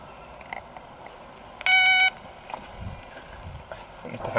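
A doorbell rings at a residential address in one clear, steady electronic tone lasting about half a second, mid-loud against quiet room background with faint voices afterward.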